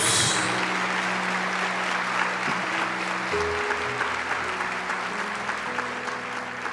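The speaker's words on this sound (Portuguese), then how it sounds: "Vamos aplaudir poderosamente a palavra de Deus." A congregation applauds at a Catholic talk and book launch, broad steady clapping from many people heard over a sustained low musical tone, moderately loud throughout.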